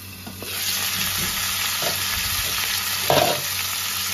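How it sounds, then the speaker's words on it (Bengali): Fish heads with turmeric and salt fry in mustard oil in a covered wok, giving a steady close sizzle broken by a few soft stirring scrapes. "এবার ঢাকা দিয়ে মাথাগুলোকে ভালো করে ভেজে নেব।"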